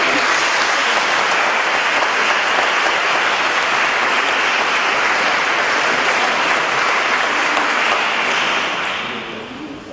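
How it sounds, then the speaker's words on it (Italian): A church audience at a Sacred Heart feast choir gathering gives a choir a long, loud burst of steady clapping that holds evenly, then fades near the end. "Accogliamo gli amici del coro con un grande applauso."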